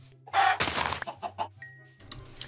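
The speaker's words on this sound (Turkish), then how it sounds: "Aa tavuk hızlı ölüyor Allah'tan." Chicken clucking in Minecraft: a few short, clipped game-style clucks sound close and clear in the middle of the clip, with a brief thunk and a faint ringing chime near the end and no speech.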